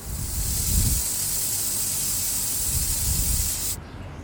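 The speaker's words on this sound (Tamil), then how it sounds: "மிதமான ஹீட்டில் 2 விசில் வரட்டும்." A pressure cooker of plain kuska biryani vents steam in a steady, loud hiss that holds for about four seconds and then cuts off abruptly.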